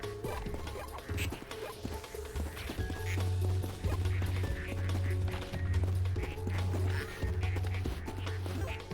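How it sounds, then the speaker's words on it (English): Ducks quack in the factory management game Project PITT, scattered quacks layered over steady game music and a low rhythmic hum, with no talk. "we do seem to have a bunch of ducks that are starting to catch up here"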